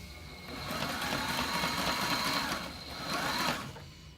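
A sewing machine stitches a battery strap for an FRC robot, a fast steady mechanical whir that runs for a few seconds, pauses briefly, then resumes before stopping.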